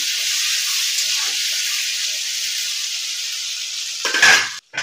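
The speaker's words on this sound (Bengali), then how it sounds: "কালো জিরে ফোড়ন দিলাম, তার সাথে বেগুন আর আলু একসাথে দিয়ে দিলাম। বেশি ভাজবো না, হালকা করে ভাজবো।" Eggplant and potato pieces frying in hot oil tempered with nigella seeds, giving a steady close sizzle and hiss throughout, with a brief louder burst and a stir or clink of the pan near the end.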